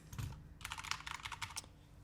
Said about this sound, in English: I'm typing on a Cherry MX Corsair keyboard